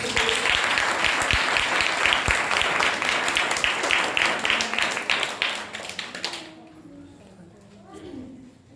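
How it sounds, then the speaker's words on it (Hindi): Loud, sustained applause from a church congregation during a sermon, steady dense clapping that fills the room for about six seconds, then fades as a voice begins speaking. "एक जोरदार ताली बजाइए"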